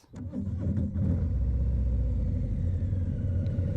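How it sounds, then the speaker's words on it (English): A 2021 Harley-Davidson Street Bob motorcycle cranks and fires up close by, then settles into a loud, steady, throbbing idle. "That characterful startup is the most essential ingredient for a Harley-Davidson."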